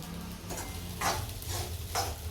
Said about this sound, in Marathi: हे बघ आता ही खिचडी चांगली परतते